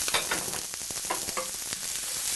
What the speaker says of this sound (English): put a couple tablespoons or so of your cooking oil in there, and then I'm going to put my onions in first and cook those